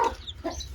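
A chicken clucks in short bursts, close and fairly clear, with no talking.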